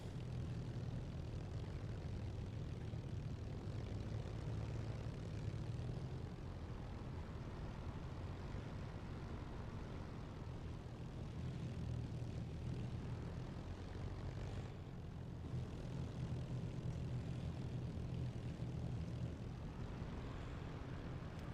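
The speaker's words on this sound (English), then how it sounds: "I love flying the Spitfire" A Spitfire's piston engine in the DCS flight simulator drones steadily and evenly throughout, a continuous low propeller rumble with no breaks and no voices.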